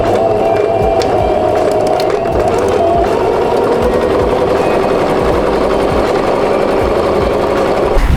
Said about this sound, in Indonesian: Nah, kita akan menyatukan dan menjahitnya di bagian dari sisi ini ya.